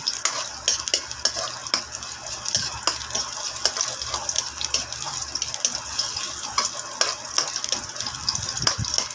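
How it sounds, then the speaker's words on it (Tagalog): Garlic and onion stirred in a cooking pot, with a soft sizzle and repeated scraping and clinking of a utensil against the metal at an uneven rhythm, heard close, with no talking. "lagay na natin yung bawang at sibuyas isuti-suti lang natin yan mix-mix lang natin"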